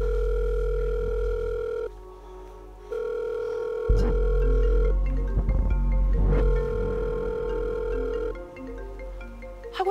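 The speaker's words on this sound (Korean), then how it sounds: "희미하게 벨소리가 들리는 거예요" A telephone rings in a steady electronic tone that repeats and pauses over several seconds, sounding close and fairly loud, with no talking over it.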